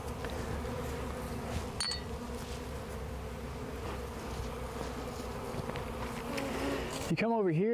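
A dense, continuous hum of many honeybees buzzing close by around a hive box, with occasional individual insects droning past.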